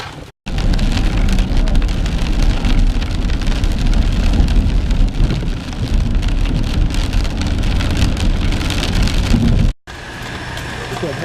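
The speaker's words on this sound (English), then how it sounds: "we're in the big box store, and it's raining again, of course" Heavy rain pours steadily outside a big box store, a loud, dense wash of drops hitting surfaces that continues almost without a break.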